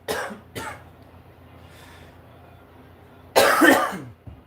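Two quick coughs close together, a pause, then a louder, longer cough, all close by in a quiet room.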